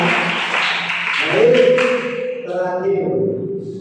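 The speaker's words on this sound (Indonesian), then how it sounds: "Beri tepuk tangan buat kita semua." A classroom group claps together in a burst of applause that fades after about a second, followed by overlapping voices talking.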